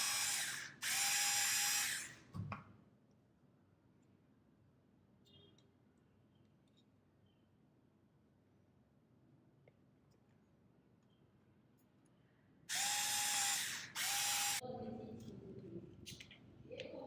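Brief, loud whirring bursts from a small electric screwdriver driving screws into the frame of a Petoi Bittle robot dog, one at the start and another near the end with a quiet stretch between.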